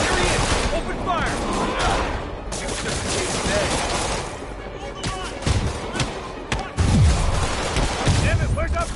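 Heavy gunfire erupts in a chaotic firefight, dense overlapping shots and booms filling the scene, loud and continuous with sharp bursts near the end, mixed with other combat noise.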